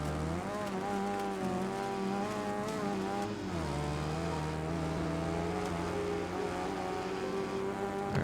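Revving race-car engine in the Wreckfest 2 video game, shifting down through the gears with rising and falling pitch, loud and continuous with brief tire noise.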